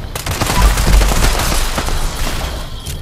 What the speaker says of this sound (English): Okay, I will give you cover fire.